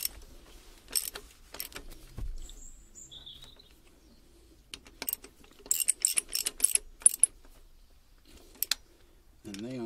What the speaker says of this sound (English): then tighten the bolts